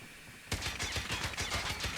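An Oden assault rifle fires a sustained automatic burst in a video game, loud, rapid, evenly spaced shots beginning abruptly and continuing steadily, with no talking.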